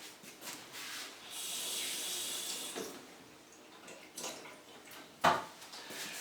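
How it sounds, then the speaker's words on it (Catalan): Small amount of water trickling from a tap into a balloon, soft running hiss in short bursts with a brief sharp squeak near the end, no speech. "el segon experiment el farem amb un globus en el qual hi posarem una miqueta d'aigua"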